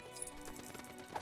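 Goat hooves clip-clopping as a character rides a goat in the LEGO Lord of the Rings video game, a quick run of light, quiet hoof taps with no talk.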